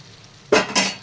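Eggplant curry bubbling in a thick, heavy kadai after the stove is switched off, two close bursts of soft sizzling and stirring clatter rising from a quiet background, with no talking.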